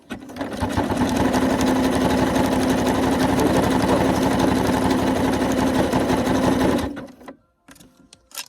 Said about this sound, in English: And it's still sewing.